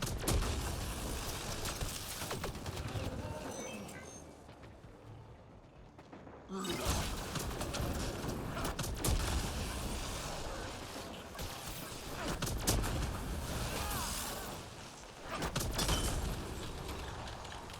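Gunfire in the sci-fi shooter Mass Effect Andromeda, with bursts of weapon fire and impacts in dense, noisy combat. A brief lull comes before the shooting resumes, and faint voices sit under the action.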